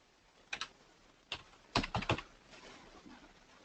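A few quiet, close computer keyboard keystrokes, a couple of isolated taps followed by a short quick cluster, over a low room hiss.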